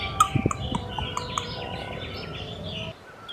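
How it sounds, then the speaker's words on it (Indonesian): A Bali myna, a medium-sized songbird about 25 cm long, calls in a run of short, bright chirps and whistles at moderate distance, with other bird sounds faintly behind. "Jalak Bali ini adalah burung pengicau yang berukuran sedang dengan panjang kurang lebih 25 cm."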